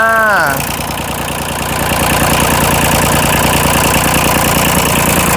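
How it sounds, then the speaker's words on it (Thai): A three-cylinder Kubota L2000 tractor diesel engine idles steadily with a rapid, even chugging rhythm after a brief tonal whine at the start; loud and close throughout. "เครื่องยนต์เป็นเครื่องยนต์สามสูบนะครับ"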